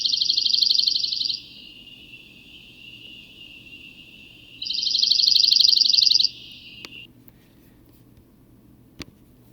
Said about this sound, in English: Dark-eyed junco is just a series of monotonous notes.